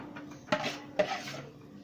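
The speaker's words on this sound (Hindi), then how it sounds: "तो दोस्तों बिस्मिल्लाह करके इसमें सारे ये पोटैटो डाल देंगे।" Potatoes for an egg chingari curry tumble into a pot in two quick clattering drops, close and fairly quiet, with faint scraping after each one.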